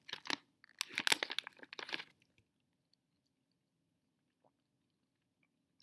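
Close crunchy chewing of a chocolate gummy bear treat, a cluster of moist bites during the first two seconds, followed by near silence.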